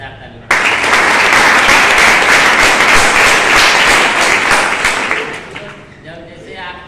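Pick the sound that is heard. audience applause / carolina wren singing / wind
audience applause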